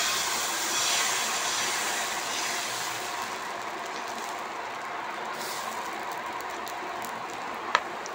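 Rava and wheat-flour dosa batter sizzles on a hot oiled griddle, a loud steady hiss that fades slightly over several seconds, with one sharp click near the end and no talking.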